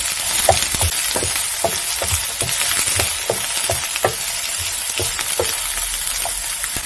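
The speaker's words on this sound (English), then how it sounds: "I'm going to fry my onions until they are translucent" Chopped onion frying in a pan, a steady close sizzle with repeated clinks and scrapes of stirring at a loose rhythm throughout, no voices.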